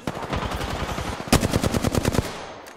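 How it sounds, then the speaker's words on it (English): Rapid automatic gunfire in the battle royale shooter Apex Legends, with loud, close, sustained bursts of evenly spaced shots running almost the whole time and no talk. "Taking fire."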